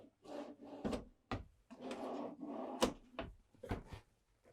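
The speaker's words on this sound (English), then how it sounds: "Drawers here." Drawers in the bathroom of a 2026 Newmar Mountain Aire RV sliding open and shut several times, with close wooden rolling rumbles and sharp knocks as each one closes.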